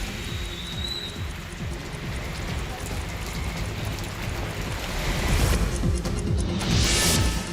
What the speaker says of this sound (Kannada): ಅರ್ಧ ಗಂಟೆ ಧೋ ಅಂತ ಸುರಿದ ಮಳೆಯಿಂದ ಜನಜೀವನ ಅಸ್ತವ್ಯಸ್ತವಾಗಿತ್ತು